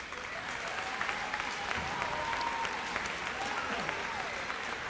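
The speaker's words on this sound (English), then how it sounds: "Cheer for yourselves, students." Students at a Twinsburg school event applaud and cheer, a dense steady wash of clapping with scattered shouts that holds at full strength from start to end.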